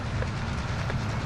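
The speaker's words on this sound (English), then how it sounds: "You're hitting the train." A train in a video game rumbles past in a brief, steady, close and fairly loud low rolling clatter without any talk over it.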